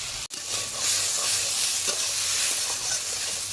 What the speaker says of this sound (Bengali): সুন্দরভাবে কষে নেবো আবার